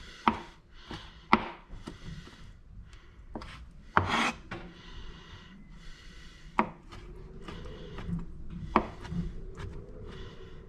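Kalamata olives being chopped with a knife on a board, irregular sharp knocks between stretches of softer rocking and scraping, close and quiet.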